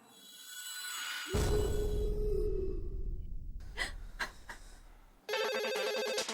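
In a comedy sitcom scene, a telephone rings loudly in repeated bursts near the end, following a low rumbling swell, a rising tone and a few sharp clicks, with no talk.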